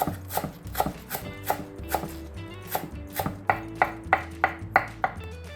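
Bellflower root being thinly sliced with a knife on a cutting board, a quick string of crisp, close chopping taps in an uneven rhythm, with no talking.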